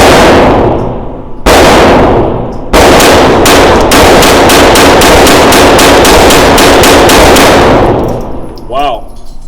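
Rapid shots from a Taurus TX22 Competition .22 pistol fitted with TANDEMKROSS parts, loud sharp cracks in quick succession with short pauses between strings, then the firing stops and quieter handling noise follows.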